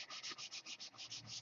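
Hand sanding in a workshop gives about nine even back-and-forth strokes, each a rhythmic hiss of abrasive on a surface. It is close but quiet, with no talk.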